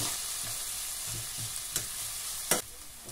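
Garlic and onions sizzle in hot oil in a pan, a steady close hiss with soft stirring scrapes and a couple of sharper crackles, no voices.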